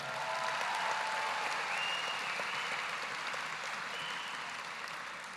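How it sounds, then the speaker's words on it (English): Audience applause at the Pflugerville High School class of 2026 graduation for the salutatorian: a steady, distant wash of many hands clapping, sustained evenly throughout with no talk over it. "Let's give them another round of applause to our salutatorian."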